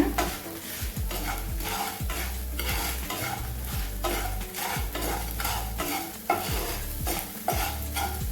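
Dried chillies and salt dry-roast together in a pan, with constant rapid spatula stirring giving a busy rattling scrape over a light sizzle.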